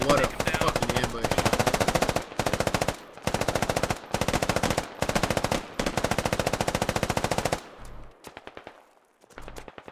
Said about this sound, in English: They were going full auto there for a second.